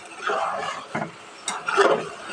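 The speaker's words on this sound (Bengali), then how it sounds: "একটু সুন্দর মতো নেড়ে দিচ্ছি" A spoon stirs mutton tripe curry in a pot with a soft sizzle of oil underneath, a few scraping strokes at moderate loudness and no talking.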